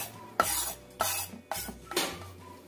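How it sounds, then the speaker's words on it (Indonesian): Seasonings, including powdered broth, scallions and celery leaves, are mixed by hand into a cracker dough in a home kitchen: four close, brisk rustling and squishing bursts at roughly even intervals, with no talking. "Kita aduk sampai rata semua bumbunya ini"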